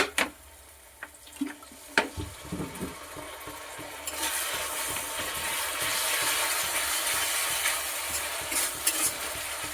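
Jackfruit curry in a pan: a few spoon taps and stirring scrapes, then water poured in raises a loud, sustained rushing sizzle, with occasional clinks near the end.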